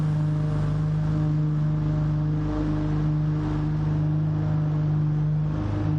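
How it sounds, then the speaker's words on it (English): A Ferrari 296 GT3 race car engine drones steadily in the pit lane of a racing game, a loud continuous engine tone holding constant throughout. "the 296 GT3, loud and proud in the pit lane"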